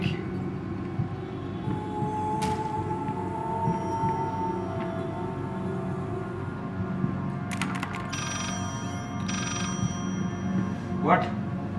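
A telephone rings in the horror video game Layers of Fear, its bright trilling bursts standing out late in the clip over a steady low droning ambience.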